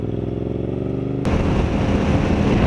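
A Yamaha MT-07 motorcycle on a test ride in Malaysia, its engine note loud and close, then a burst of buffeting wind noise as speed builds.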